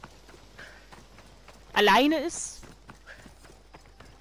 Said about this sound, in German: Komm, ich warte mal aufs Pferdchen.